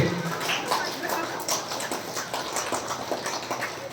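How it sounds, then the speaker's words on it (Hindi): An audience claps along in a steady rhythm at a Bhagavat katha gathering in Satbhini, Jharkhand, quick repeated hand claps running under a voice speaking throughout. "ऐसे ताली बजाएंगे"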